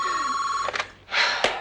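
A telephone rings in a Hindi TV drama: a bright electronic ring tone fades out, two more short bursts of ringing follow, then comes a sharp click, all close and clear.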